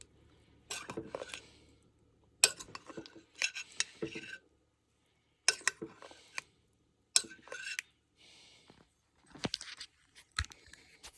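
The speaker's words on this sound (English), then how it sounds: "Just gonna baste a little bit. I can get my spoons in here." Metal spoons clink and scrape against the insert of a crock pot while basting Italian chicken three hours into slow cooking, in several separate bursts of close, sharp tapping and scraping with quiet gaps between.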